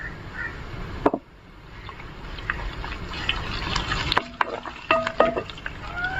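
A fairly large piece of ginger, thinly sliced lengthwise, sizzles with garlic in a pan. Steady frying hiss with sharp clinks and scraping of stirring utensils against the pan, close and moderately loud, with no talk.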